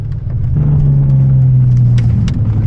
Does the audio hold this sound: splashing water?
no